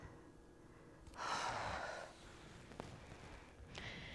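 Audible breathing while resting in child's pose at the end of an upper body and core workout: a long, soft exhale-like rush of air, followed later by a shorter, quieter breath, with no talking.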